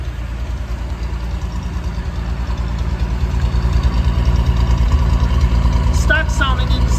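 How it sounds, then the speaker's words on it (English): A 1961 Ford Falcon Futura engine idles steadily with its stock exhaust, a loud, continuous low rumble that builds slightly midway, with a voice briefly heard near the end. "It's a great running engine here."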